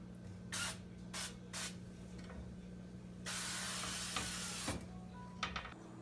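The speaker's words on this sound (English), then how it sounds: "now we're gonna put some olive oil cooking spray on it" Olive oil cooking spray hisses onto a skillet while llapingachos are being cooked: three short bursts, then one long spray of about a second and a half, close by.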